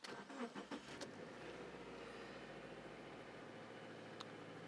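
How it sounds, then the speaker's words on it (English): A Subaru car with a TR580 transmission cranks over with a few quick bursts of the starter, then catches and settles into a steady, even idle close by. "We're gonna go ahead and start the engine."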